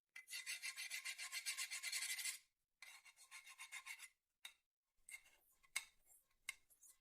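Fire-resistant paint on a chrome-plated surface being scratched hard, producing a close, harsh rasping in rhythmic strokes, then shorter bursts and a few scattered scrapes with no talk.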